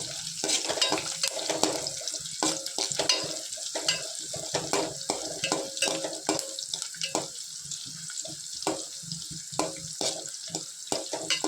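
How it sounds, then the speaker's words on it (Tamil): Small onions sauté in a pan for a snake gourd and egg dish, giving a steady sizzling hiss broken by frequent scraping stirs throughout, with no talking. "நல்லா வதங்கட்டும்"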